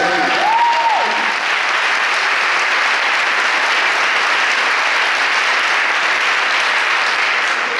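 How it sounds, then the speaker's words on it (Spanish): Sustained, dense applause from a church congregation during a sermon fills the space evenly and loudly, steady throughout after a brief tonal sound at the start, with no talking over it. "Aplauda, pastora, que estoy muy agradecido."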